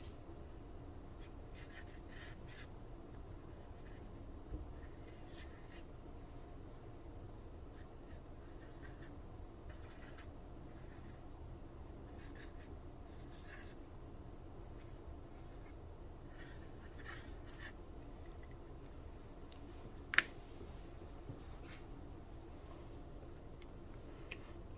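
A pencil drags steadily across paper while a stick figure is sketched, giving a soft, continuous scratching with intermittent strokes and a few faint taps over a quiet room.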